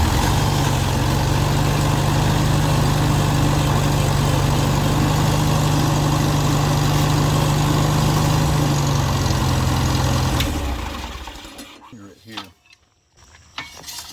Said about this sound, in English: I'm going to crank the tractor back up